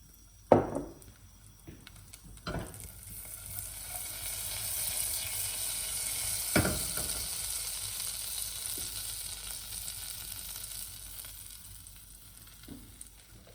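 Garlic and black pepper sizzle faintly in melted butter in a pan, a soft steady hiss broken by a few sharp clinks and taps of utensils.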